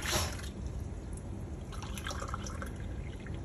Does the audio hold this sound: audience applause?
no